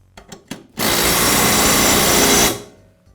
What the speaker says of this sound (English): I'll tighten the bolt with my impact wrench.